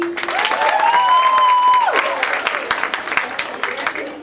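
An audience claps and cheers at a women's symposium, a crowd applauding after a speaker is introduced, with a brief whistling tone ringing over the steady clapping.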